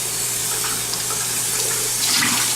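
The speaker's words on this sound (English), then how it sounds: "And I'm going to add another water to this" Tap water pouring steadily into a cooking pot to bring it to a boil for chicken ravioli soup, a constant close rushing splash that swells slightly near the end, with no voices.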